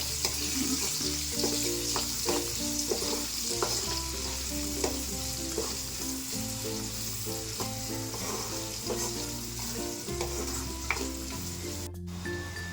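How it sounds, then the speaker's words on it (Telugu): Onions frying in a pan for butter chicken, a steady loud sizzle with frequent stirring scrapes and clinks running throughout, no voices. "ఇవి కూడా యాడ్ చేసుకున్న తర్వాత ఫ్రై చేసుకుందాం కొంచెం"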